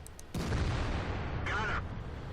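A heavy IS-3 tank's main gun firing in World of Tanks, one sudden deep boom that rolls out into a loud sustained rumble, with a brief higher mechanical whine partway through.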